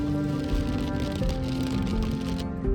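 Steady heavy monsoon rain pours during a road trip to Lonavala, a dense continuous hiss with low rumbling underneath, close and loud throughout without any talking.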